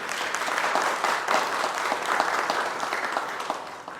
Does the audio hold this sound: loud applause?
yes